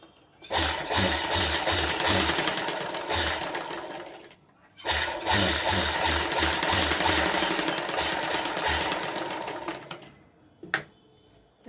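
A sewing machine stitches the inner lining of a sleeve in two loud, rapid bursts of rhythmic needle chatter separated by a brief pause, ending with a few soft handling clicks.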